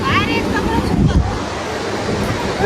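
Surf breaking on a beach at Arey Warey on the Konkan coast: a steady, close wash of waves with wind noise buffeting the microphone throughout.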